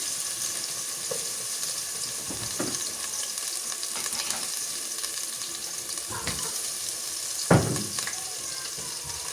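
Crushed ginger and garlic frying in a pan, a steady hiss of oil with a few short stirring scrapes and one sharper clatter near the end; no voices.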